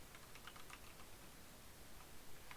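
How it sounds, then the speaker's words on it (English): Quick, uneven typing on a computer keyboard, a continuous patter of light key clicks with no voices, recorded faint and close against a steady background hiss. "my typing's terrible"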